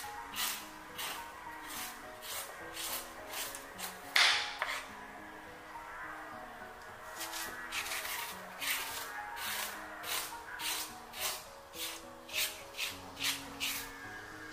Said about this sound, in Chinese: 这层白色的膜也给它刮干净，这样炒出来的苦瓜才不会那么苦。